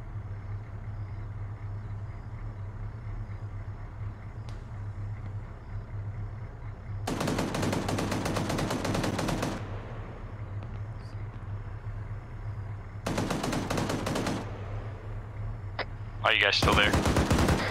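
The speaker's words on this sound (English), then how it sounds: "Whoever's shooting that guy, he's dead." Automatic gunfire in the Arma 3 military video game comes in two sustained bursts, one long and one shorter, over a steady engine-like hum, with a brief voice near the end.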